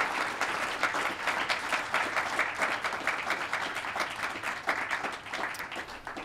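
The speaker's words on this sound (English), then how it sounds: "Can we give a round of applause?" A round of applause from an audience after a guest speaker's talk at a South Asian professionals event, steady, even clapping at moderate distance with no talk over it.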